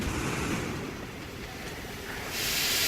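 A train in the Metro Exodus game, a steady rumbling, hissing roll close by with a rising steam-like hiss toward the end, no voices.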